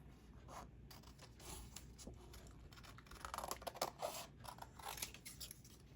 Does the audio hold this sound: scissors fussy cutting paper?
yes